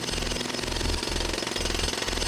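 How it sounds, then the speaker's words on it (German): A jackhammer pounds at Autobahn roadworks in the Autobahn Polizei Simulator 3 video game, a loud, rapid, continuous hammering that pulses in short repeated bursts with no speech. "Der Jackhammer."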